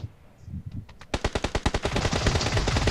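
Rapid automatic gunfire in the mobile game PUBG New State, a few scattered shots building into a fast, loud burst of repeated rounds, with no talking over it.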